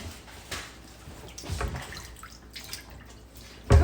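Water splashes and drips in a sink as fresh produce is washed by hand: soft intermittent sloshes, then a louder splash at the end.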